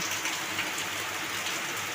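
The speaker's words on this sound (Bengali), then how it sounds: "এত জোরে বৃষ্টি হচ্ছে" Heavy rain pours steadily outside a house where water is coming in, a dense even hiss of drops on surfaces, moderately quiet and with no voices.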